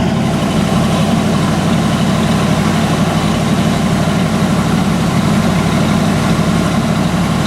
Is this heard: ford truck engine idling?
yes